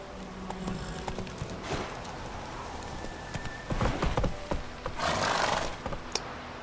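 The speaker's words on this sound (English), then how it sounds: "That was a horse." Roach the horse gallops in the Witcher 3 video game, with steady, close hoofbeats clip-clopping throughout and brief neigh-like bursts layered into the busy game soundscape.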